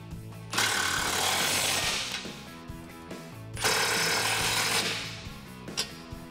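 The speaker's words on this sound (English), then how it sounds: "Grab a 16 millimeter wrench and a 17 millimeter socket and tighten these down." An impact wrench drives step bar bolts home with a 17 mm socket on a 2005-2019 Toyota Tacoma Double Cab, sounding as two loud, close rattling bursts, each about two seconds long, separated by a pause.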